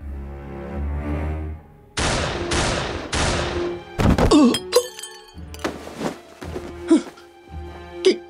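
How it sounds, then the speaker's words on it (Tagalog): A rapid series of loud gunshots rings out as a horror story sound effect, several sharp blasts in two quick bursts with short gaps between, each trailing off briefly. "bigla akong nakarinig ng sunod-sunod na malakas na mga putok"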